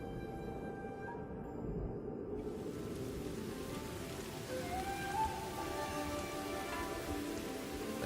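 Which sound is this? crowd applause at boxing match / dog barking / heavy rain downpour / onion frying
heavy rain downpour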